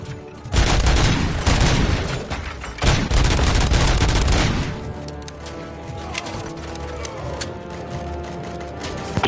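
Gunfire from the RoboCop Rogue City video game as shots are fired at police, dense loud bursts of rapid shots and booms that give way to quieter mechanical sounds and lighter shots.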